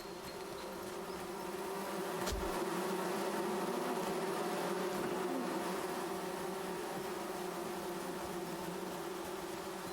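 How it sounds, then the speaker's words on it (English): Bees in the forest survival game Among Trees give off a constant, even buzzing drone that holds steady throughout, with a single brief thump near the start and no talk. "There we go, there's some bees."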